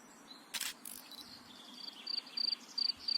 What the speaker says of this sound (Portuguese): Grilinho.